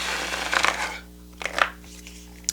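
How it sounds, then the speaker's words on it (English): A deck of playing cards is shuffled by hand, giving two short, crisp riffling bursts close by with a brief pause between them. No one speaks. "let's get a shuffle"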